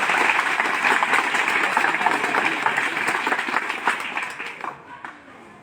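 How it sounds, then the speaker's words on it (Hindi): An audience claps in welcome at an acupressure therapy and yoga talk, a dense sustained round of applause that stays steady for several seconds and then fades out toward the end. "जोरदार एक बार तालियों से आपका स्वागत करते हैं"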